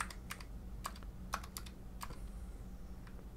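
Code being typed on a computer keyboard, quick bursts of soft key clicks with short pauses between, close and fairly quiet over a faint room hum.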